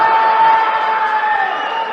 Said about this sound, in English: Yelling, screaming, cheering loud for a missed free throw.